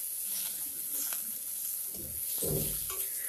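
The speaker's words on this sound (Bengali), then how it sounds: "দিয়ে এবারে ভালো করে কড়াইতে নেড়ে নিচ্ছি।" Potatoes with salt and turmeric stirred in a wok over a low gas flame: a soft, quiet sizzle runs throughout, with a few louder scraping stirs near the end.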